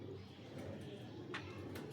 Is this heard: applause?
no